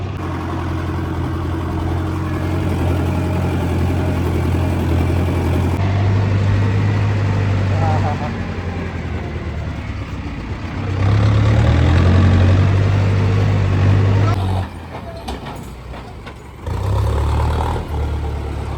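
A tractor engine idles with a steady low rumble, the pitch and loudness shifting now and then, nearby and continuous.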